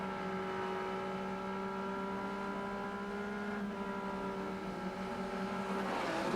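Touring cars from the 1991 ATCC round at Lakeside pull away from the starting line, a steady roar of engines that is loud and sustained, with the note holding and rising before a burst of noise near the end.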